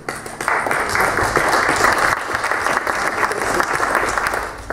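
A municipal council chamber erupts in applause for local volunteers, a brisk crowd of hands starting abruptly and continuing loud and uniform for over four seconds.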